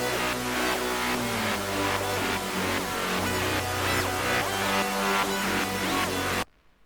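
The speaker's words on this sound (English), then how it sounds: "So I started off by making this sort of loop in with some serum presets." A dense, washy ambient synth loop built from Serum presets in FL Studio, with a steady pulsing rhythm and low bass notes, plays for several seconds before stopping abruptly.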